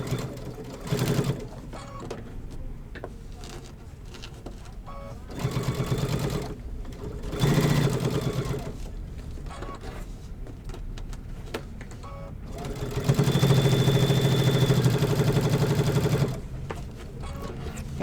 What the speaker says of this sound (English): I always put my needle down first, then my foot, and then I'm just going to go ahead and sew my 1/4 inch